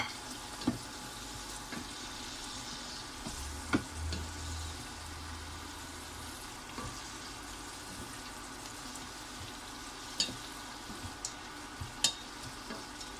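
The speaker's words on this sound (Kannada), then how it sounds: "ಈ ಕ್ಯಾರೆಟ್ ಕೂಡ ಹಾಕ್ಕೊಳ್ತೀನಿ, ಸ್ವಲ್ಪ ಗಟ್ಟಿ ಇರ್ತದೆ, ಅದಕ್ಕೋಸ್ಕರ ಕ್ಯಾರೆಟ್ ಕೂಡ ಅನಿಯನ್ಸ್ ಒಟ್ಟಿಗೆ ಹಾಕೊಂಡು ಫ್ರೈ ಮಾಡ್ಕೊಳ್ತೀನಿ." Beans, carrots and onions frying in a pan, a faint steady sizzle broken by scattered sharp clicks and scrapes of a spoon stirring, quiet and close with no voices.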